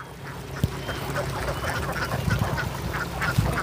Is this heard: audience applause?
no